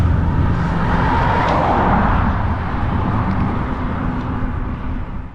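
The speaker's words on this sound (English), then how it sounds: "As you can hear from the car noise," Traffic on a busy road beside a cycling route along the Rhine, a continuous loud roar of cars passing close by, swelling and easing as vehicles go past, with no talking.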